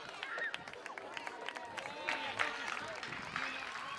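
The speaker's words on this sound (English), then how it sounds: "He gets a big round of applause from the fans" Fans at a BYU soccer match against FC Tucson applaud a substituted senior player, scattered crowd clapping heard from a distance under a commentator's voice.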